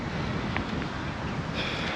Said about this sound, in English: it's also quite windy out here today as well